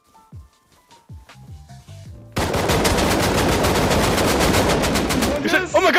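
In the video game Rust, sparse single shots and clicks give way to a sudden, sustained burst of rapid AK rifle fire that is loud and continuous for several seconds.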